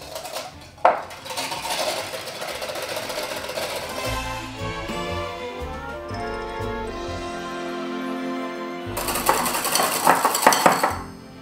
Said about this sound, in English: I'm gonna be very brave and whisk it by hand